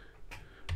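Two faint, separate clicks of keys struck on a computer keyboard, close by and with no talk.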